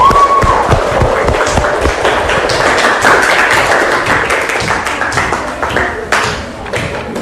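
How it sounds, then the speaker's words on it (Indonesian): Classroom applause for a winning student group after presentations, a dense crowd of hands clapping near and steady for several seconds, with a teacher's voice briefly over it. "aplaus untuk kelompok 2"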